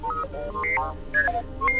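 A droid in Star Wars Knights of the Old Republic 2 chirps out a short string of electronic beeps and warbling whistles, melodic tones hopping up and down in pitch over a low hum.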